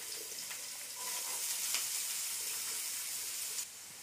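Chopped onions and fennel seeds sauté in a hot pan for chicken kheema burji, giving a continuous, close sizzle that swells after the first second and eases slightly near the end.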